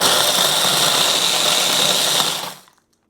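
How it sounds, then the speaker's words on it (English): Biscuits blitzed in a food processor for a raspberry cheesecake base make a steady, loud motor whir with gritty grinding. It runs continuously for about two and a half seconds and then winds down to silence. "First job, blitz the biscuits."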